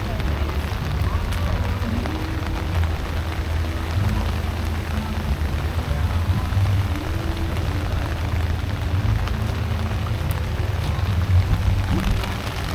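Steady rain falls across an outdoor classic car show, a dense continuous hiss with low rumble, with faint voices in the background.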